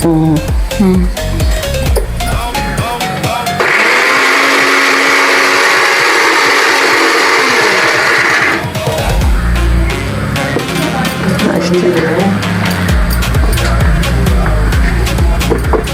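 A kitchen mixer grinder coarsely grinds a mixture for a traditional Karnataka rice dish, a steady loud whirring burst of about five seconds with people talking before and after it.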